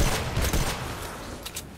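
Gunfire in the video game Fortnite: Save The World, a dense, steady burst of rapid shots rolling together into a continuous rattle for under two seconds, with no talk.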